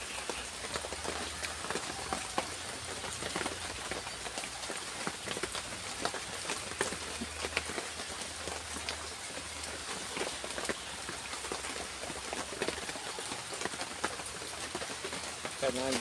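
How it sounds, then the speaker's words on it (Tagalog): Continuous soft patter of light rain falling on a surface, a steady fine hiss with scattered drip taps, low and even throughout. "Mahina na yung ulan pero ambun-ambun na lang."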